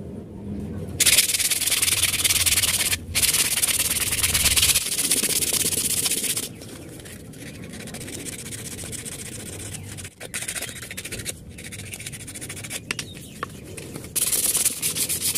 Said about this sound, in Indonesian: Langsung saja kita amplas halus.